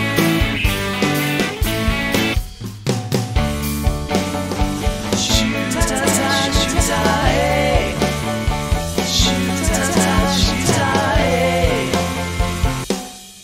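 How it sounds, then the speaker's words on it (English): Ragged, unaligned stacked vocal tracks sung over a music backing, the layered voices slightly out of sync with loose, smeared phrase edges, playing loud and continuous with a short pause early on. "Here I have a track with some vocals that sounds like this."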